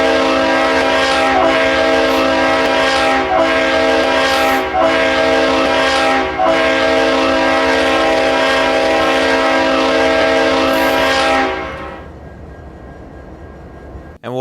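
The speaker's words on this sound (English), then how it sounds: "here's how the horn of the locomotive sounds." A locomotive horn in the Roblox game Ro-Scale Southline blares as a loud, sustained chord for about twelve seconds with a few brief dips, then fades away.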